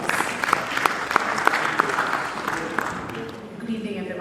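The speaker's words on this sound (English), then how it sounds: "Can we once again give a great round of applause" An audience applauds at a publishing industry session, a steady dense patter of many hands clapping close by with a few sharper claps standing out, continuing without a break for several seconds.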